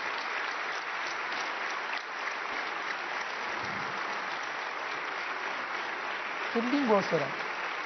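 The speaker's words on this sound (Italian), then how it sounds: "Grandi applausi, naturalmente," Sustained applause from a large audience greets the Pope as he enters in Strasbourg alongside Martin Schulz, a steady wash of clapping throughout, with someone briefly speaking over it near the end.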